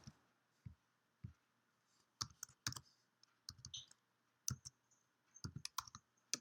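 Keys on a computer keyboard click as a URL is typed, a quiet close series of irregular taps that come singly at first and then in quicker clusters, with no talk.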